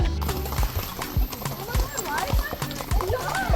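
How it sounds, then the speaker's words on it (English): Horses trotting on a trail ride near La Fortuna, Costa Rica, hooves clip-clopping in a steady uneven rhythm close by, with people talking over it. "My horse is trying to race y'all."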